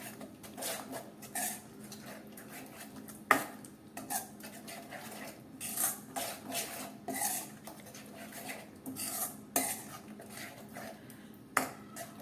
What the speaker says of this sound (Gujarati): દૂધની મલાઈ નાખ્યા પછી આપણે આ રીતે સારી રીતે મિક્સ કરી લઈએ